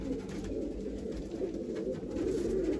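Female pigeon giving a continuous low coo, close and fairly loud, over a constant background rumble with no pauses.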